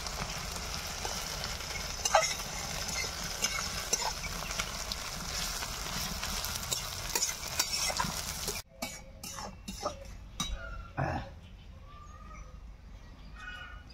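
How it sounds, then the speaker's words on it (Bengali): Chopped onions fry in a pan, giving a dense crackling sizzle that drops abruptly partway through to quieter intermittent spits and clicks. "পেঁয়াজ থেকে খুব সুন্দর লাল লাল করে ভেজে নেব।"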